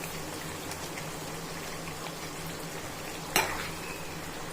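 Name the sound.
pot of food boiling on the stove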